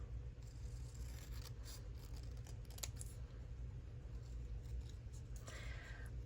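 Scissors snip close by as a bright journal page is trimmed, giving a few soft, brief cuts over a steady low rumble.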